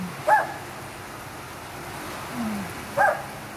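Two single dog barks, far off and fairly faint, spaced a few seconds apart against a soft, steady background hiss.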